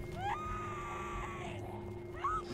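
A woman screams in The Walking Dead Season 1 Episode 3 game, two rising wails heard near the start and near the end over a steady low hum and background ambience.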